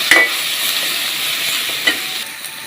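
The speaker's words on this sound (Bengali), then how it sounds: "প্রথমে আস্তে একটা টমেটো দিয়ে দিলাম এবং রসুন কুচি দিয়ে দিলাম, একটা কাঁচামরিচ দিয়ে দিলাম। এগুলো এইভাবে ভেজে নিতে হবে।" Tomato, chopped garlic and a green chili fry in hot oil with a steady close sizzle, broken by a couple of brief utensil scrapes.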